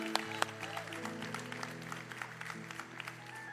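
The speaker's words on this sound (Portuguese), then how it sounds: "Dá uma salva de palmas, é para Jesus, vamos." Church congregation clapping for Jesus during a revival service, steady dense applause with a couple of sharp louder claps early on, carried over sustained music tones and faint voices.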